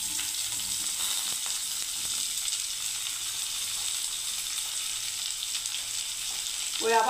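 Chopped onion sizzles and fries in a pan for garlic bharta, a steady, faint hiss with occasional stirring clinks and a brief louder scrape at the end.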